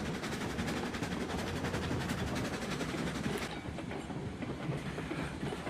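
Train running in a train simulator video game, with a steady rolling rumble and rhythmic clickety-clack of wheels on rail joints, loud and continuous throughout, the high hiss dropping away partway through.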